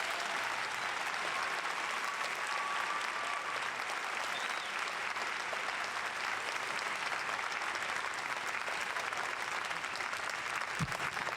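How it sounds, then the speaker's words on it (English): Steady, even clapping fills the whole stretch as the audience at a Fort Benning infantry graduation ceremony applauds the graduating soldiers, heard from a distance with a brief thump near the end. "please join us in giving these fine soldiers a round of applause."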